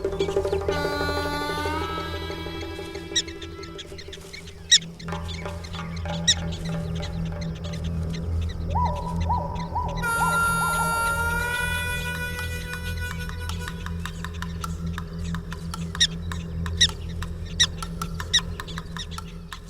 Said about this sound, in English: As soon as the prairie dog spots a predator,